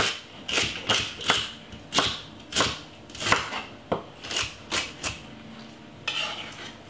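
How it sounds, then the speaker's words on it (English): A knife slices through celery on a cutting board in a home kitchen, giving a steady run of about fifteen crisp, evenly spaced chops, close and fairly loud with no voices. "Cut up the celery into some slices."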